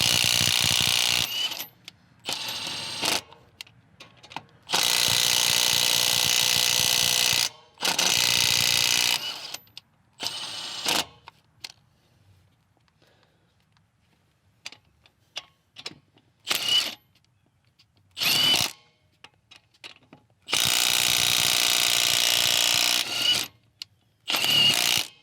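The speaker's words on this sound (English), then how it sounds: "So we're gonna go ahead and step it up to the 1/2-inch drive and see if it can take these off any easier." Milwaukee M18 FUEL compact impact driver with a 1/2-inch drive removing fasteners, loud hammering bursts of several seconds each, separated by short pauses and quiet gaps, with no talking.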